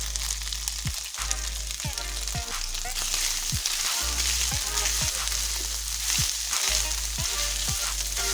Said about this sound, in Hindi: मसालों को भी अच्छी तरह इसके साथ भूनेंगे।